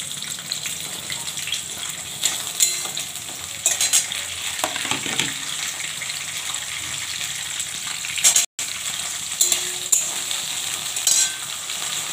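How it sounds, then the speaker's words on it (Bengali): Onions, capsicum, green chili and beans sizzle and fry in a pan, giving a steady hiss with occasional stirring scrapes and clatter and one brief break in the sound. "পেঁয়াজটা একটু লাল লাল করে ভেজে নেব। এটা দিয়ে দিচ্ছি ক্যাপসিকাম, আর হচ্ছে লঙ্কা দিয়ে দিচ্ছি, বিনস দিয়ে দিচ্ছি"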